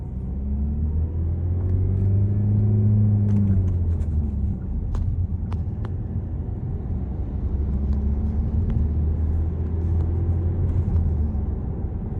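A car engine accelerates as the driver applies gas, a loud, close low rumble that climbs in pitch, eases off, then builds again. No one speaks.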